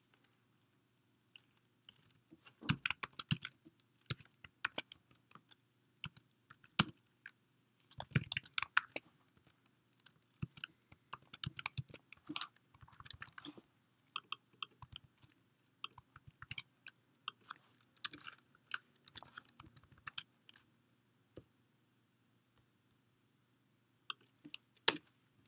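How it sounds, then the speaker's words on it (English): Computer keyboard typing in short irregular bursts of close, crisp clicks with pauses between, continuing alone without talk for about 25 seconds. "let me just finish typing this out"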